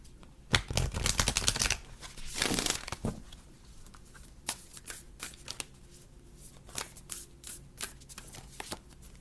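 Moonology oracle cards are shuffled by hand in a brisk flurry of riffling and fluttering at the start, then come softer, scattered taps and slides of cards, close and without voices.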